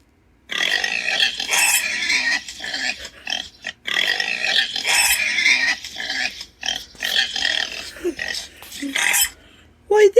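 Little pig grunts and snorts in several bursts through the clip, close and fairly loud, with short pauses between groups of sounds.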